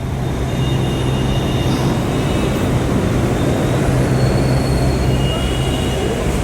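A metro train pulls into a station in Jaipur with a loud, steady rumble and a thin wheel squeal running through it, close by and unbroken, with no talk.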